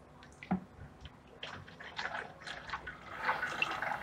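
AB Mix hydroponic nutrient solution being poured, a soft wet trickle with small drips and splashes that grows steadier and slightly louder toward the end, no voices over it.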